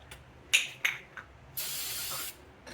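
A few short hissing bursts followed by a longer, steady spray from an aerosol can onto a Mercedes-Benz Vito front brake hub during a rotor replacement, close by and moderately loud.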